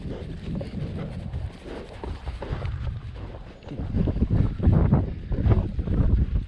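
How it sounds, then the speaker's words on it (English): Steady wind gusting across the microphone outdoors by a horse stallion, continuous low roar that rises louder in the second half. "It's always windy here."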